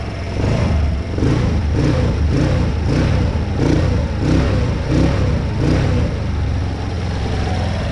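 A 150cc monster quad engine that has just been rebuilt after cylinder and piston trouble, running loud and close with a rough, pulsing drone and repeated rhythmic revs that swell and settle without a break.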